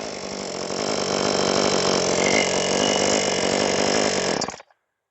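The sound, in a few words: Sportsman chainsaw with 20 inch bar starting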